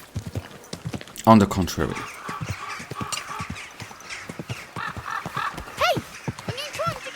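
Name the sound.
horse hooves riding in video game Kingdom Come: Deliverance II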